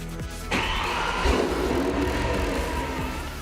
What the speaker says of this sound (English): Press the button again to start the engine.